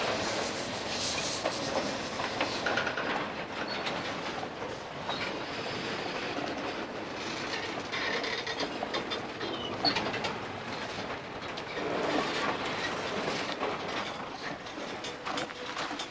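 A McCloud River Railroad freight train of mixed boxcars rolls past with a continuous rumble and clatter of cars, while birds call in the background throughout.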